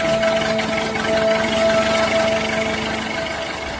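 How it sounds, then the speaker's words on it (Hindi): A car engine runs with a steady, loud mid-pitched hum and a constant whining tone throughout, with no clear start and no talking. "बाहर आकर गुल्ली गाड़ी स्टार्ट करता है"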